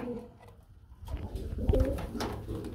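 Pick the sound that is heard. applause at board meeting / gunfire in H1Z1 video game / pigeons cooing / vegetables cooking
pigeons cooing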